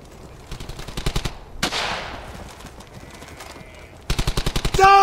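Rapid bursts of machine gun and rifle fire in the WWII shooter Brothers in Arms: Hell's Highway, loud rhythmic volleys at the start and end with a whooshing blast between and sparse shots in the middle.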